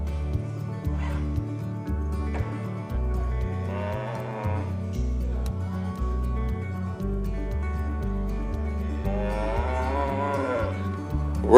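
Heifers low and moo at a regional junior livestock show, several drawn-out bovine calls rising over a steady, loud arena backdrop of rhythmic music and crowd noise.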